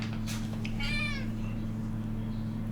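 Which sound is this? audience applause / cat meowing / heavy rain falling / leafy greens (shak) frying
cat meowing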